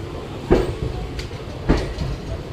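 A train at Rajkot railway station gives two distinct heavy clanks, like wheels over rail joints, about a second apart over a continuous low rumble, with no voices.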